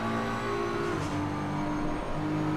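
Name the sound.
race car engine at Suzuka in the video game Assetto Corsa Competizione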